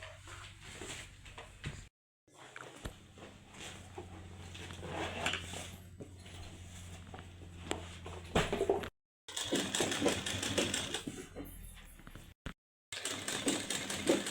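Sewing machine stitching blouse pieces together, a rapid mechanical rattling run close up that stops and restarts in several bursts separated by brief silences, fairly quiet, no voices.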